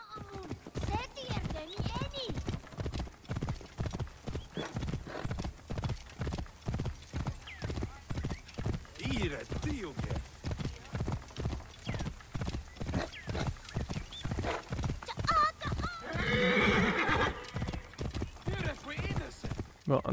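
Rapid, steady hoofbeats of a galloping horse in Assassin's Creed Origins run throughout, with a neigh rising partway through and a voice talking over it.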